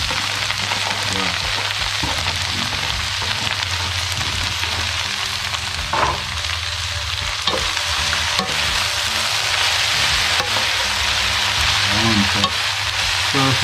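Vegetables with bell pepper and coriander sizzle steadily in a hot pan as they are stir-fried, a continuous loud frying hiss with light clatters of stirring throughout and no talk.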